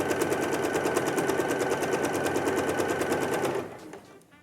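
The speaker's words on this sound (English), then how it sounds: "So sew just a stitch before it, take it out, and then sew to the end." A sewing machine stitches quilt pieces in a fast, even run of needle strokes, close and loud, then winds down and stops near the end, with no talk.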